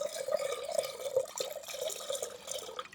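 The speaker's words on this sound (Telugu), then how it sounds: "వాటర్ ఇట్లా ఒక పాత్రలో పోసుకుందాం" Water poured from a container into a cooking vessel while making ragi malt, a steady close trickling splash with a resonant ringing tone from the vessel, continuous for the whole stretch.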